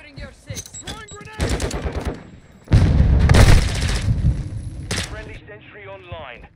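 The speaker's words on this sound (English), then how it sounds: "Throwing grenade." A grenade detonates in a Call of Duty Modern Warfare team deathmatch, a loud close boom with rumbling gunfire around it, bracketed by soldier voice callouts.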